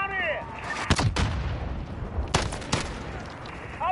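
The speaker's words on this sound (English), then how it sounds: "We're taking fire down here!" Video-game gunfire in Modern Warfare: several sharp shots and booms in a firefight, a couple of loud bursts spaced apart over a busy battle background with faint radio-like chatter.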